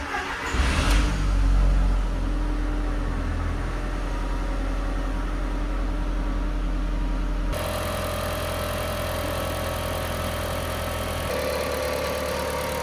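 Audi S3 with a 1.8T engine cranking and catching after a big service with a new coolant tank, a quick rev, then a steady idle hum close by with no talking.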